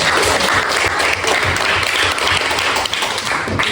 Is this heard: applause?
yes